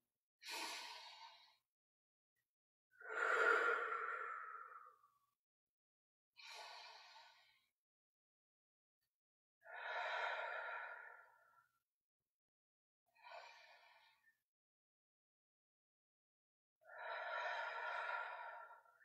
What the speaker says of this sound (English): Let's take five deep breaths.